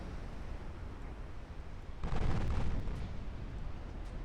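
Eight-inch naval guns firing armour-piercing shells in Ultimate Admiral Dreadnoughts, heard as one heavy, rumbling salvo about halfway through that rolls on for around a second over a steady low background.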